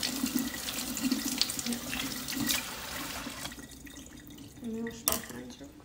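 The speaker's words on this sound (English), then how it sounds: "Let me wash my hands real quick" Tap water runs into a sink while hands are washed under the stream, a steady close splashing that changes as the hands move in and out, with a few louder splashes near the end.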